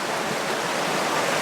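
Water flowing in Rock Creek in the Sierra Nevada, a loud, steady rushing wash of stream water heard up close with no talking.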